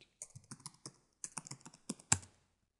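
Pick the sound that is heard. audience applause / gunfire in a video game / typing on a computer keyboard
typing on a computer keyboard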